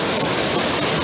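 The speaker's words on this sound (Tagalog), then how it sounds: "Yan ang waterfalls." Torboll waterfall in Scotland, a loud, steady broadband roar of falling water filling the whole moment without break.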